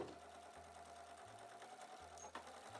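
A sewing machine back stitches a pencil case seam, its faint motor hum running in short back-and-forth bursts with brief pauses between passes.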